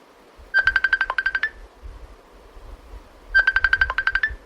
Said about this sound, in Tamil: யார் இது ஃபோன் ஓயாம அடிச்சுட்டே இருக்கிறது?